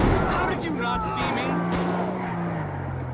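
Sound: armored car driving in GTA V video game

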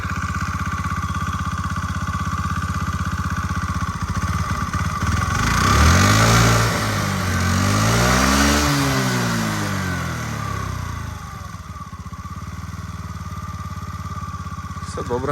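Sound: scooter engine running

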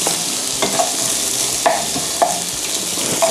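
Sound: stir-frying carrots with shrimp in a pan

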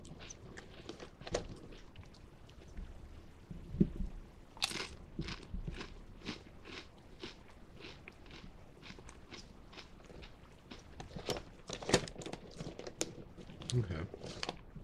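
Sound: biting and chewing crunchy ridged flavored chips

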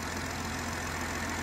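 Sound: BMW X3 M40i engine idling under the bonnet

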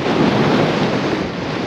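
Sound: wind blowing on a winter mountain climb

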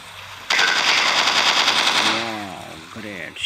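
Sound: gunshots in a dinosaur hunting simulator video game

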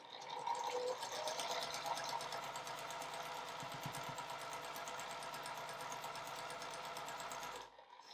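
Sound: sewing machine stitching quilt block pieces

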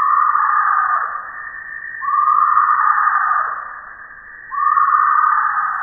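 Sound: tree hyrax call

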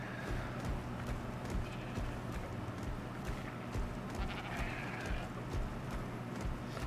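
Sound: sheep bleating in the video game ARK

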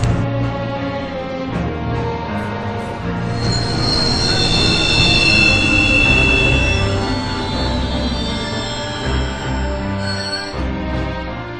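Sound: train braking to a stop in the video game Final Fantasy XV

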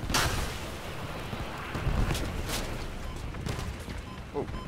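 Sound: missiles firing in video game Crossout

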